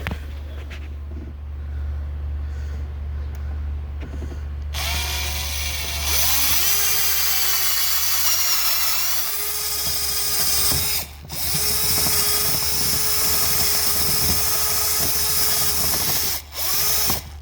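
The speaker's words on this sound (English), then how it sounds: "you're gonna drill into it." A power drill whines steadily at close range, drilling into a car seat panel of a 2019-2020 Jeep Wrangler JL Sahara, its pitch shifting as it bites in, with a couple of brief pauses near the end.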